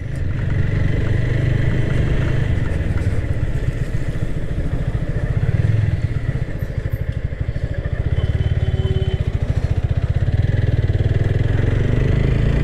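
A TVS Apache RTR 160 4V motorcycle rides along a village road, its engine a steady, close, loud drone with rapid firing pulses and a brief easing midway before picking up again, with no speech.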